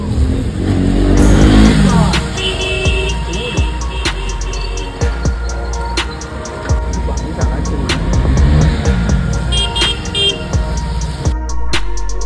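A KTM Duke 390 motorcycle pulls up close and loud, its engine rising and falling through repeated revs with rhythmic ticking and clattering around it.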